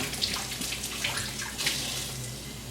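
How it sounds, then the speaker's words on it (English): Cold water pours into a dough mixture for hamburger swirls, a steady splashing trickle lasting a few seconds with small bubbling surges, close and fairly quiet. "And then water. And I always add like cold water."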